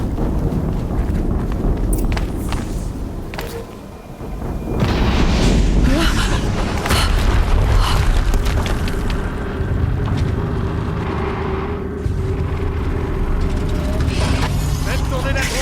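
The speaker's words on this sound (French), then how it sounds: "Encore une explosion." Explosions from the video game Horizon Zero Dawn, deep booming blasts and rumbling debris that swell and persist, mixed with game sound effects and talk.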